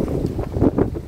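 Strong wind buffets the microphone outdoors in Perth city, a rough, gusting low roar that rises and falls in quick pulses.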